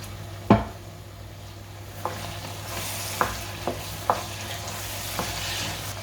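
Green chillies, mint and coriander sauté in a pan for mutton dum biryani, a steady sizzle broken by several sharp spoon-stirring clacks against the metal, close and fairly loud.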